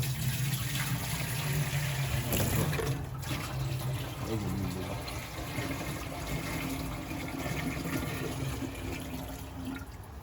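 Water is poured to fill a container while making rosemary essential oil, a steady close splashing gush that runs throughout with a person talking over it.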